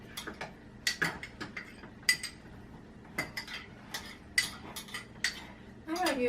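A spoon scrapes and clinks against a bowl while applesauce goes into cookie batter, making a run of light, irregular metallic taps at close range.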